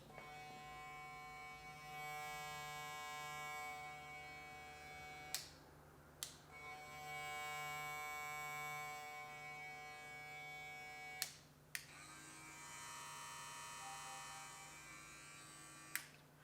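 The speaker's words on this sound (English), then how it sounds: "so as far as the sound goes on this clipper, very quiet" Stylecraft Saber brushless hair clipper running with a quiet, steady electric hum. It is switched off and on a few times, with short clicks and gaps between the runs.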